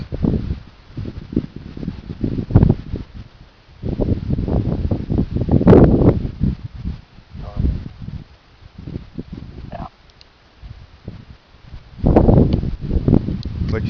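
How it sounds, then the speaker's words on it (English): Gusts of wind buffet the microphone outdoors during a thunderstorm in Cambridge City, Indiana, rising in loud rumbling bursts and falling back between them. "Another wind gust."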